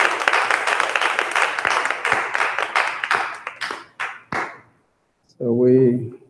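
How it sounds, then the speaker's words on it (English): An audience claps for someone speaker at a community health night, dense applause that thins into scattered claps and stops, followed by a brief spoken voice. "Give her another round of applause."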